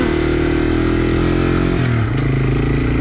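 A Yamaha TW200 motorcycle is ridden on a narrow trail, its engine loud and close with a steady throaty drone that shifts pitch as revs change toward the end, and no talking.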